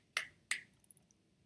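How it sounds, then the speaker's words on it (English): Two crisp finger snaps, close and sharp, about a third of a second apart, followed by faint small clicks in a quiet room. "Snap your fingers."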